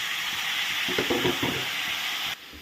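Vegetable stalks sizzle in an oil-filled pan for lunch, a steady bright frying hiss with a brief burst of stirring clatter in the middle before the sizzle drops abruptly near the end.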